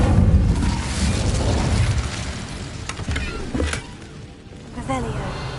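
A fire spell cast in a wizard school video game, a loud whooshing burst of flame at the start settling into a sustained rumble, with a few sharper pops and crackles later under game ambience.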